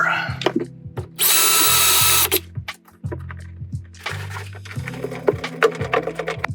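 A power drill drives a screw into wood on a staircase being remodeled, with one loud steady burst of about a second. Clunks and knocks from the work come before and after it.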